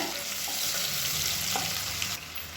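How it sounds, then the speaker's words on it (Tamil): Chopped onions and spices frying in a hot pan, a steady dense sizzle and crackle with faint stirring, close and continuous, no voices. "இப்போ இது எல்லாமே பொரியுது"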